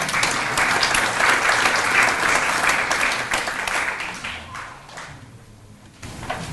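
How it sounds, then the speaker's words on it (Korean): An audience applauds in a hall to welcome a former Rotary district governor to a leadership seminar, a dense burst of clapping that holds steady and then fades out before a final swell. "큰 박수로 맞아주시기 바랍니다."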